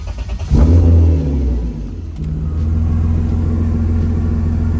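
A BMW E36 car engine cranks and catches at about half a second, revving loudly before settling into a steady, rumbling idle close by.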